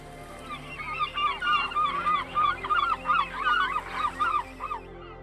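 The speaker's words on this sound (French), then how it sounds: "goélands et mouettes, répondent présents." Gulls calling in a coastal nature reserve, a flock giving repeated overlapping cries and yelps in a steady, fairly close chorus with no voices.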